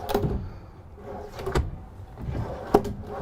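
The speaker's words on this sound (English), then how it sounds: "Again, full extension drawer glides." A full-extension drawer on smooth glides in a 2020 Newmar Bay Star Sport 3112 motorhome is pulled open and pushed shut, giving soft sliding rumbles and a couple of sharp close thumps.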